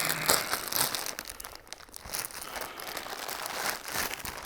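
A plastic bag holding a Holley CAN remote I/O wiring harness crinkles and rustles loudly and close as it is handled, in irregular bursts with a short quieter pause partway through, with no talking.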